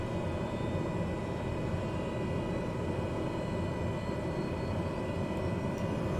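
Steady, loud broadband aircraft engine noise with a constant tonal hum, from a simulated aircraft in Microsoft Flight Simulator as the engine picks up after the starter; it runs continuously and evenly with no talk.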